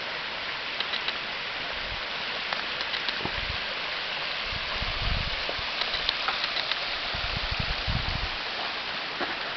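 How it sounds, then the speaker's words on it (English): Steady rain patters and hisses across the whole stretch at a hot spring in Pai, Thailand, with occasional heavier drops and low splashes, no voices present. "It starts raining now"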